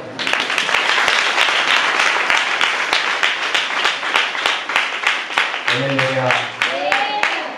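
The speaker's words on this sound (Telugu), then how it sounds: "ఈ చప్పట్లు కొట్టి ఆరాధన చేద్దాం ఈ వర్తమానాన్ని బట్టి అందరం ఒకసారి" A church congregation at a fasting prayer meeting claps together in fast, steady rhythmic applause, loud and close throughout, with a voice rising in near the end.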